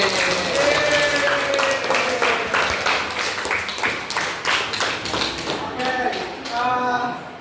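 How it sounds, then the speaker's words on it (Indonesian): Scattered hand clapping with distinct individual claps, mixed with background chatter and some tonal sounds, moderately loud and uneven. "Oke, good. Tepuk tangan."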